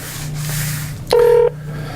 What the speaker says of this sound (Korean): 이경주 지금 연결을 시도를 했는데